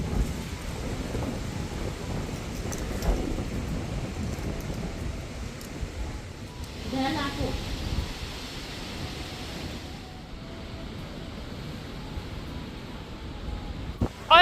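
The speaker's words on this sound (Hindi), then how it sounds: "तो अब जो है ठंडी ठंडी हवा चल रही है, हो सकता है रात तक के बारिश भी आ सकती है।" Cool wind blows steadily in a hill village before rain, a broad continuous rushing wash with gusty swells and no speech.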